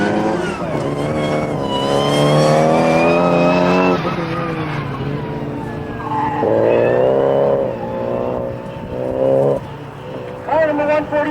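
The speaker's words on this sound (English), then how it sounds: "We hear cars" At a BerettaFest 2003 autocross event, race cars rev and drone with rising and falling engine tones and some tire squeal, loud and close. A voice talks over the engines.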